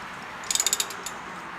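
A ratchet wrench clicks in a quick burst of about six sharp, close pawl ticks, then a single last click, while undoing a bolt on a Hyundai suspension strut. Steady background hum, no talking.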